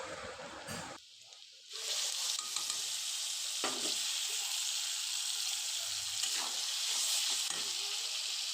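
Ginger, garlic and onion paste frying in a wok with bay leaf, cinnamon and cardamom, a loud continuous sizzle with brief stirring scrapes after a short quieter start, close up, no talking.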